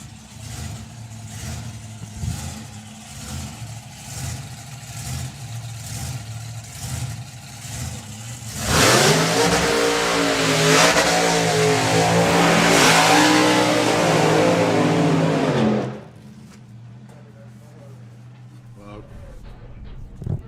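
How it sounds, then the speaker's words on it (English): Drag race cars do burnouts at a drag strip: a loud, sustained roar of revving engines and spinning tyres that swells up and holds for several seconds, then cuts off, with idling engine noise before and after. "Two good strong burnouts you'd expect from these seasoned campaigners."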